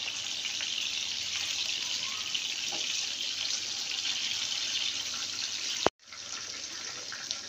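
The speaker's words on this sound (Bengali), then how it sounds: "এভাবে এক পাশে লাল হয়ে গেলে আমি দুই পাশেই লাল করে ভেজে নেব।" Rohu fish pieces frying in hot oil in a pan give off a steady, loud sizzle that cuts out briefly near the end and then resumes.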